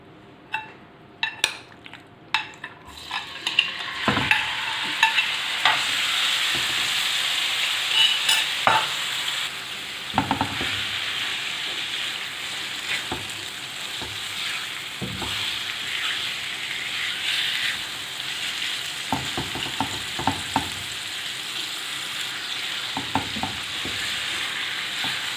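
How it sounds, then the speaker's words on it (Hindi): Marinated chicken fries in three to four tablespoons of oil in a pan, giving a loud, steady, close sizzle with repeated clinks and scrapes of stirring. "इस ऑयल में अब हम इस चिकन को फ्राई कर लेंगे"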